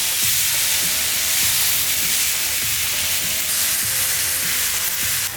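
Blackened ribeye steaks sear at about 500 degrees on a hot grill, giving a loud, steady sizzle and hiss throughout with occasional small pops and crackles.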